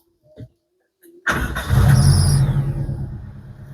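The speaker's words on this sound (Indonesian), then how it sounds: "Coba nyalakan mesinnya, Mas." A 2002 Suzuki car engine cranks over with a brief starter whir and catches, then settles into a loud, close idle after a couple of faint clicks beforehand.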